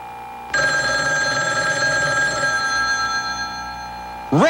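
An old-style telephone bell rings in one long sustained trill after a short quiet start, bright and steady, then cuts off as a voice begins right at the end.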